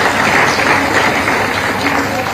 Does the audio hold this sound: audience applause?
yes